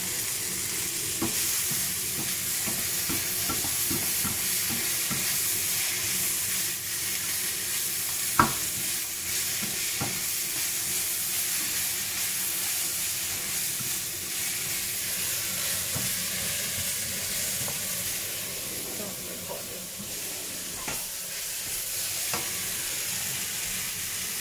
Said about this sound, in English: Nice and hot and sizzling.